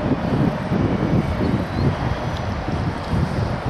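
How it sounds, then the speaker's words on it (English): Gusty wind buffets the microphone at an airfield during a Pitcairn PCA-2 Beechnut autogyro flight, a steady low rumbling roar with surging pulses, continuous and fairly loud throughout. "Yeah, it's a little windy today."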